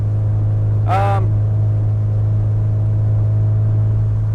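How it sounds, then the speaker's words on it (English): A 1992 Mazda Miata with a Manzo catback exhaust idles with a steady, low, even drone throughout. A brief voiced sound rises over it near the start, and the exhaust note otherwise stays constant and close. "This is the Manzo catback exhaust. It sounds fantastic."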